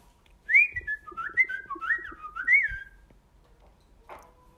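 A person whistles a short, lilting tune of gliding notes, clear and fairly close, alone over a quiet background with a soft knock near the start.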